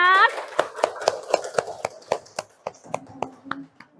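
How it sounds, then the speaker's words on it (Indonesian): A class of schoolchildren in an Islamic studies lesson claps in a brief, uneven rhythm of sharp separate claps, moderately close, following an opening burst of children's voices. "Oke, tepuk tangan anak-anak"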